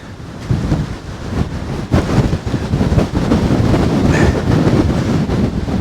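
Strong gusting wind of Storm Darragh on the Dorset coast buffeting the microphone, a loud roaring rumble that surges and eases in waves, with no talking.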